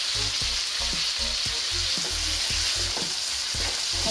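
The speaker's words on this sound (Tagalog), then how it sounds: "At hintayin lang natin ito guys na maluto ang ating kamatis, yung mag-brown siya." Tomatoes fry in a pan with a constant bright sizzle, broken by regular scraping knocks as the pan is stirred, close up and with no voices.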